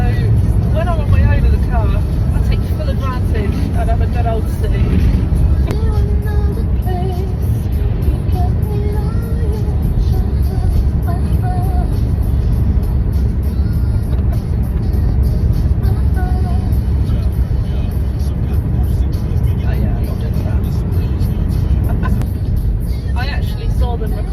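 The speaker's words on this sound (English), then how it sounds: "I'm still driving, and it's quite a long journey" A car drives along on a long journey, its steady engine and road rumble droning throughout beneath a voice talking.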